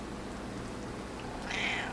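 A short, faint cat meow comes near the end, rising out of a steady background hiss.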